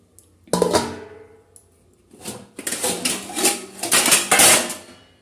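Dishes and utensils being washed: irregular clinks, knocks and clattering of metal and crockery come in uneven bursts with quiet gaps between them.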